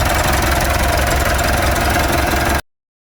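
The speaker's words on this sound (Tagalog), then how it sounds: "So ayan nga, maabot na sa red line yung kanyang RPM. Yan, lakas ng power niya." A Mitsubishi Pajero Sport diesel engine, freshly cleaned and given an oil change, revs hard toward redline with a loud, close, continuous roar that holds steady, then cuts off abruptly.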